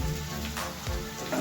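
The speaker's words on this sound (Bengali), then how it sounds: "চিকেনটা দিয়ে তো ভাজা করবো" Chicken pieces dropped into a hot frying pan for homemade chicken chow mein, giving a close, continuous sizzling hiss throughout.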